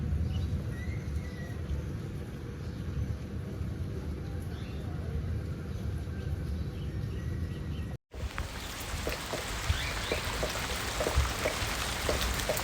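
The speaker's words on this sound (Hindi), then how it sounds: "देखो मैं सो के उठी थी, अभी बारिश हो रही है।" Steady rain patters and hisses outdoors, with a brief break partway through before the downpour resumes with scattered sharper drips.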